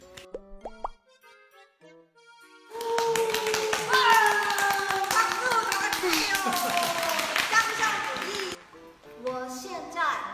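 An audience claps in a sustained burst that swells and holds for several seconds, mixed with cheering voices and tonal sounds, then fades out.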